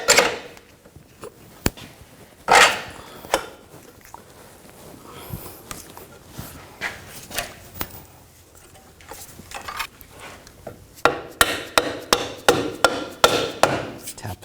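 A hammer taps the rear control arm of a 2000-2006 BMW X5 into place during rear wheel hub bearing replacement. Sharp metallic knocks come close and clear: a few scattered early hits, then a quick run of repeated taps near the end.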